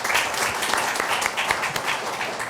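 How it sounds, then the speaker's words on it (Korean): Audience applause at a political party study meeting in Korea, brisk, dense clapping from a seated crowd in a room, fairly close and steady from start to finish with individual claps standing out. "박수 한번 주시겠습니까?"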